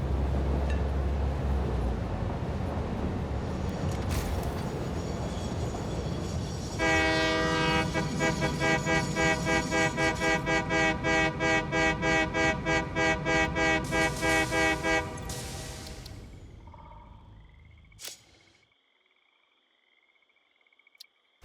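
A train in the Satisfactory video game rumbles into a station with a steady rhythmic clatter of wheels, then slows and fades, with brief horn-like tones sounding over the noise.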